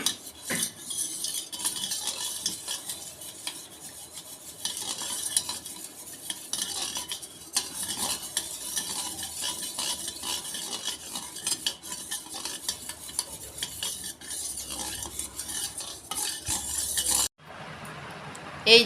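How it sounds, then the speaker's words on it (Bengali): Chili sauce being stirred and mixed in a pan for rice chilli chicken, a steady scraping and clinking of a utensil against metal running continuously with faint sizzling underneath, stopping abruptly near the end. "দিচ্ছি এই যে চিলি সস। তারপর আমি নাড়ে নিচ্ছি, গুলে নিচ্ছি ভালো করে।"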